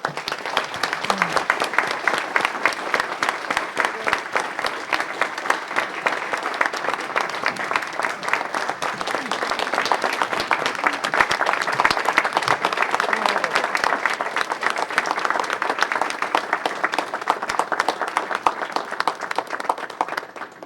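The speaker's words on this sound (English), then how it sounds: "Everyone, please give him a round of applause" A council meeting audience breaks into sustained applause, many hands clapping densely and evenly for about twenty seconds, close and steady with a faint voice briefly beneath.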